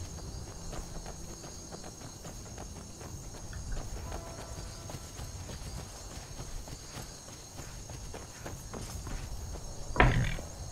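Horse hooves clip-clop at a walking pace in Skyrim, faint and continuous over an outdoor ambience with insect chirping, ending with a brief louder thump.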